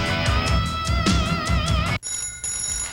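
Telephone bell ringing in a radio advert, a loud repeated trilling ring in quick pulses that cuts off abruptly partway through, leaving a faint high tone behind.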